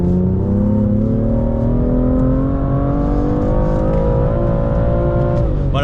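A BMW M2 engine revs hard in third gear on a driving-center track, its pitch climbing steadily under load for several seconds before a brief dip at the end, loud and close throughout.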